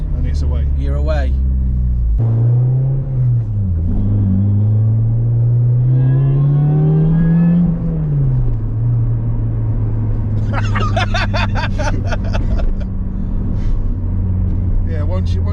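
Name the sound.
supercharged Toyota Corolla T-Sport engine revving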